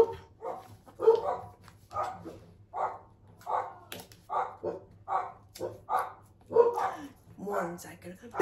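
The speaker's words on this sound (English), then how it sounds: "I'm sorry if you can hear my dogs." Several dogs bark in repeated loud bursts at a steady pace, close by and in a domestic setting.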